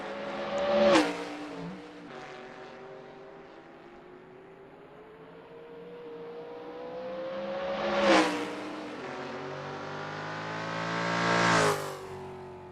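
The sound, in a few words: Trans Am race cars passing by at Road America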